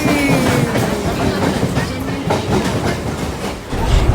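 A local commuter train passes by in Chennai with a loud, close rumble and rhythmic clickety-clack of wheels over rail joints, roaring steadily throughout.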